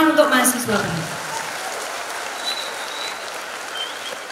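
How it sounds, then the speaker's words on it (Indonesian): An audience applauds new students at a university welcome and first-lecture ceremony in Indonesia. The clapping is a steady, dense wash that follows a brief voice at the start and holds evenly to the end. "Tepuk tangan untuk mahasiswa kami."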